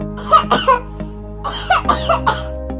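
Repeated bursts of harsh coughing in two clusters, close and loud, over a steady low background hum.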